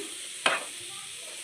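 Eggs frying in a pan for a chapati roll are stirred with one quick scraping stroke over a soft, continuous sizzle.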